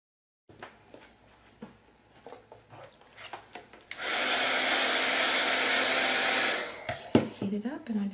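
A heat tool blasts a steady, loud airflow for about three seconds while oil pastels are melted and blended for a paper weight craft, with scattered handling clicks and rustles before and after.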